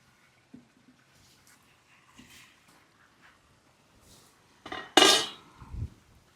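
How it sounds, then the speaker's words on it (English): Wood chunks and metal grill grates placed into a kamado grill: quiet scattered knocks and scrapes, then a loud metallic clank and rattle near the end, followed by a softer thud. "now it's time to put our wood chunks in, put our grills on"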